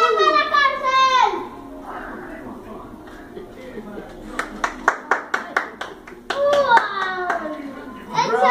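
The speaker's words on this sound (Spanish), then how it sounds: "Aplausos, aplausos." A short burst of about eight sharp hand claps from children playing a pretend circus game, set between stretches of excited child chatter before and after.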